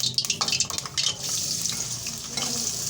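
Onions fry in hot ghee for aloo keema, with close stirring and scraping in the pan at first, then a steady, bright sizzle.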